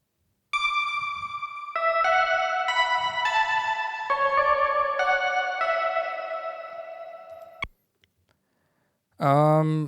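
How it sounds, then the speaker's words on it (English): Layered FM DX synth bells play a shimmering chorused melody of sustained stepped notes for several seconds, then cut off abruptly, leaving near silence before a short loud burst of a different tone at the end. "So it's basically the same synth DX, just layered, which sounds like this."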